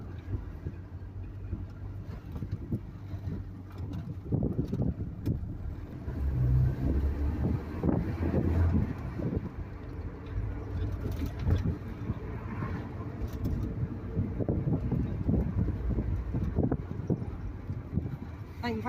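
A Ford Cortina Mark 3 GXL estate is driven along, with a low cabin engine drone and road rumble that rise and fall, while faint voices come and go beneath.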